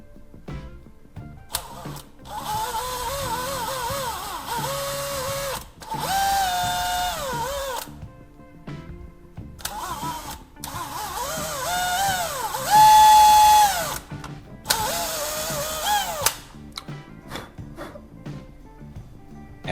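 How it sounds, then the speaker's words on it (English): A power drill whirs in several bursts, its pitch rising and falling as it bites into wood, with short quiet pauses between runs. "After marking, drill 2 small holes."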